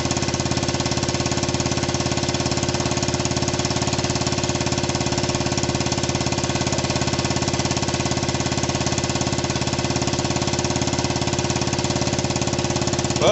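Dirt bike engine idling steadily after a cold start in snow, a loud, close, continuous mechanical drone with a fast even pulse and no pauses, with nothing else clearly audible.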